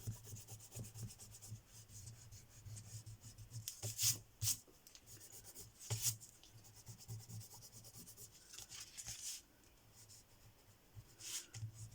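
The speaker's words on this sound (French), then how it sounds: "on gomme le surplus" An eraser rubs across paper to clear leftover pencil lines on a handmade junk-journal identity card, giving soft, repeated scrubbing strokes that come close and quiet, with a few sharper rubs and no talk.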